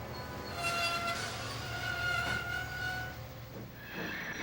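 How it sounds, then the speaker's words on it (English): Diesel engine Mavis applies her brakes at a dockside, a rumbling rail noise with a thin high squeal that rises and fades as the wheels slow, followed by a brief hissing release. "Whereas Mavis's brakes sound like this."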